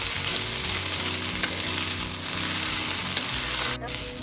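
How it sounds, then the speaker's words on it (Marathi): Okra frying in a pan over a high gas flame while being stirred until brown: a steady, dense close sizzle with a few sharp clicks, ending in a brief dip. "ब्राऊन होईपर्यंत भेंडी भाजायची आहे"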